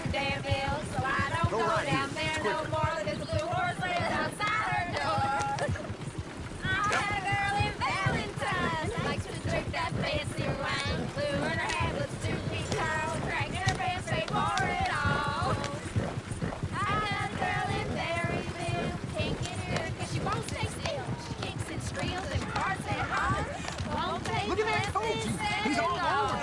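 Horse hooves clip-clopping in a game on PS4, a steady rhythmic trot running under almost constant talk, singing and other game sounds.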